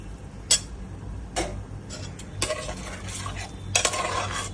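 Rice and a rui fish head being stirred in a pressure cooker pot, with spoon scrapes and clinks in several separate bursts, close and fairly quiet, followed by water being added.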